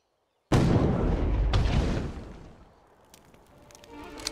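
Mortar fire in the Assassin's Creed Chronicles India video game: a sudden loud blast with a second hit a second later, rumbling away into a fading tail with faint clattering afterward.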